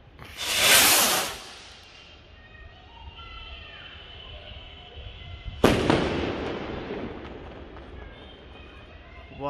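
A Standard Fireworks Delta rocket, a Diwali firework, launches with a loud rising whoosh, then after a few seconds of quiet bursts with a sharp bang followed by crackling, fairly close.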